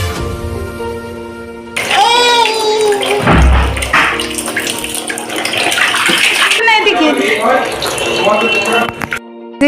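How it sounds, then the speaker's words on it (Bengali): Small children being bathed, with water pouring and splashing loudly in bursts close by while children's voices chatter and call out over it. "এই যে সোনারা এখন স্নান করছে।"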